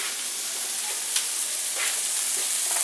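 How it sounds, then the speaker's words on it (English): Okra drops into a pot of swamp cabbage cooking with tomatoes, under a steady loud sizzle and bubbling with faint stirring noises, no talking. "So what I'm going to do now is I'm going to put my okra in."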